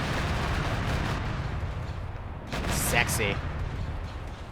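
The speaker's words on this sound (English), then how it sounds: "Oh, frick, that's a lat airstrike." An Arma 3 airstrike in a large clone trooper versus CIS multiplayer battle sends heavy explosions rumbling continuously, with a sharper burst partway through. A voice briefly speaks over the blasts.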